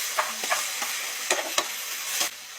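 Garlic and onion sautéing in a pan, a steady close sizzle punctuated by several quick scraping stirs of a spatula against the metal.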